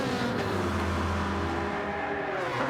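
A McLaren race car engine drones steadily in Gran Turismo 7 at Interlagos, a continuous harmonic hum holding a fairly constant pitch at moderate volume, with no talk over it.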